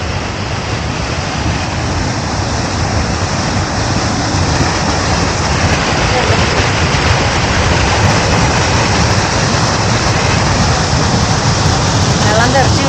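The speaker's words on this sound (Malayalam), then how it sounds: "വെള്ളം തെറിച്ച് വീണ നോക്കി." Water splashes and tumbles near Manali in the Himachal hills during rain, close to a dam or hydroelectric works, making a loud, steady, unbroken roar that fills the whole scene.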